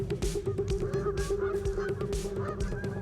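Canada geese honk repeatedly and loudly, their overlapping calls coming in quick irregular bursts over a steady low drone.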